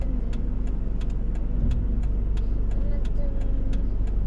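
A car engine idling and pulling away on a road in Lismore, New South Wales, a steady low rumble that rises slightly as it moves off, with brief clicks and people talking over it.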